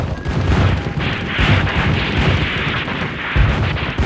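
Insurgent cannons firing low, level shots at advancing cavalry in a battle of the Mexican War of Independence, a loud, continuous rumble of booms and blasts crowding together with no pause or voices.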